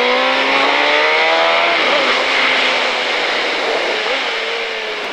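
A 2005 KTM Superduke motorcycle accelerating on the race track at Pau: a loud, close engine whine rising in pitch through the gears, with a brief dip and renewed climb as the rider straightens out, continuous throughout.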